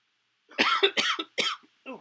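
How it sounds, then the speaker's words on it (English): A single person coughs several times in quick succession indoors, close to the microphone: a burst of three or four harsh, throaty coughs followed by a brief pause and one last softer cough. "sorry about the cough"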